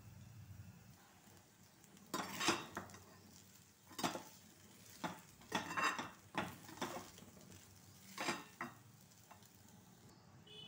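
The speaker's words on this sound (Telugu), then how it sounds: "పొద్దున వండిన అన్నము వచ్చేసి పోపు వేసేసుకుంటున్నా." Leftover cooked rice being stirred in a pan after tempering in oil: a series of irregular scraping and clinking strokes of a spoon against the pan over a faint sizzle, fairly quiet and without talk.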